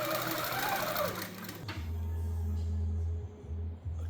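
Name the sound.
quilting machine stitching quilt borders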